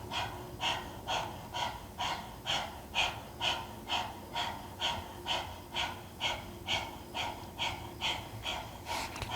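Forceful rhythmic panting during a yoga breathing exercise, about twenty quick even breaths at a steady pace of roughly two per second, close and clear, with no talking.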